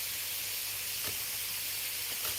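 Cabbage sizzles steadily in a hot pan, a constant soft hiss with faint low clatter and a few brief taps, heard alone without talk.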